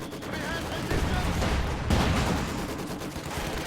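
Dense gunfire and explosions in a Company of Heroes-style strategy game match, with rapid overlapping shots and blasts heard under an excited commentator's speech.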